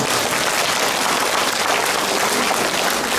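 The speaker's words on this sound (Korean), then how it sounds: "이런때 박수 한번 치시면 어떠십니까?" A church congregation at the Loma Linda Seventh-day Adventist church breaks into steady, dense applause that fills the room evenly for several seconds.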